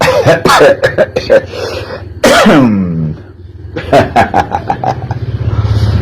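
A person coughs and clears their throat in several harsh bursts, with a long rasping cough in the middle, close by and loud.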